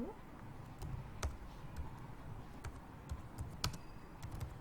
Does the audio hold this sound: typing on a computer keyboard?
yes